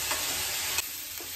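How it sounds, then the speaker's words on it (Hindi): Chili, salt and coriander frying in a pan give a steady, quiet sizzle, broken by a few brief stirring scrapes. "मिर्च और नमक सब कुछ डाल के एक बार भून लेते हैं।"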